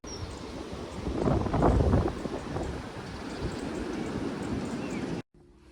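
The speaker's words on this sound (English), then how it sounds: "It is 60-mile-an-hour winds" Strong 60-mile-an-hour wind gusting outdoors, roaring and buffeting against the microphone, swelling to a loud peak then easing to a steady rush before cutting off abruptly.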